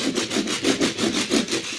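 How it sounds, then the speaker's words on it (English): A Nakayoshi Edward toy train scrapes against a grass mat in a quick series of rhythmic rubbing strokes, close and fairly loud, sounding like rough sawing or sanding with no voices. "that sound was just Nakayoshi Edward just scraping against grass mat"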